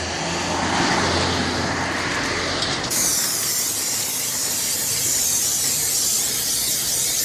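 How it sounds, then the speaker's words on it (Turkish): Tyre shine sprayed onto a dry car tyre, a steady loud hiss of aerosol spray that runs continuously, brightening partway through with no voices. "Kuru bölgelerde uygulanıyor lastik parlatıcımız."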